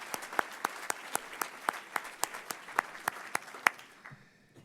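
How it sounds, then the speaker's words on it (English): Audience applause at an Ohio State University address by the university president, a few people clapping in distinct, fairly loud claps in a loose rhythm that fade out near the end. "another round of applause for all of you who've helped to make that true"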